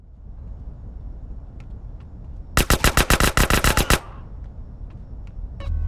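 A rapid burst of about a dozen loud, evenly spaced automatic gunshots in Grand Theft Auto: San Andreas, aboard a ship, lasting under two seconds against a quiet rumbling background.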